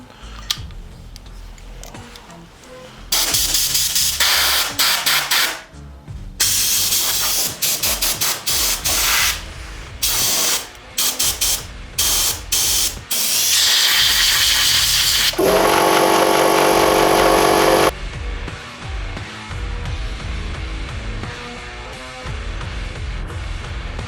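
An INTERTOOL PT-0705 sandblasting gun blasts compressed air in a series of loud, close hissing bursts of uneven length, ending in one long sustained spray before quieter background noise; no voices are heard.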